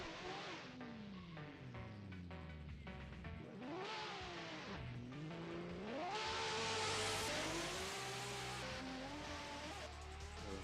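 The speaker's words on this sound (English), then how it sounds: "Very loud car nonetheless." A loud drift car screams through a qualifying run at Interlagos, its engine revving up and down in sweeping pitch changes, steady and continuous with no talk.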